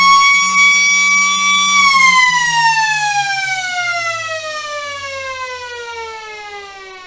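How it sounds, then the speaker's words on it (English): A loud, sustained siren at a football ground holds a steady tone, then slowly slides downward in pitch as it winds down. "And there's the siren."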